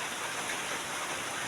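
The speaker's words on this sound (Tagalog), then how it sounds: "nabutan tayo na naman ng ulan" Steady rain falls over a rural provincial garden, a soft, even wash of hiss that stays constant throughout, with no voices.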